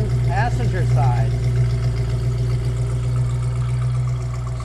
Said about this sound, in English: It's got a good healthy sound from each one of the exhaust systems